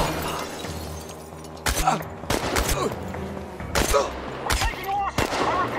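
Gunfire in the post-apocalyptic survival game Chernobylite, several sharp, loud shots in quick clusters with crackling impact noise, over a low background drone.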